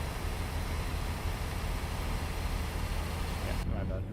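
A steady, even truck engine drone in American Truck Simulator, a constant rumbling hum with road noise that holds level throughout before thinning out abruptly near the end.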